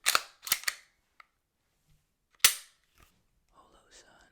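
Glock 45 pistol being handled up close: a quick burst of three sharp clicks, a lone tiny tick, then one more loud snap, followed by faint metallic scraping and light rattling in an otherwise quiet room.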